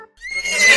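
A horse gives a short, bright whinny that rises quickly and rings out loud and close in under a second.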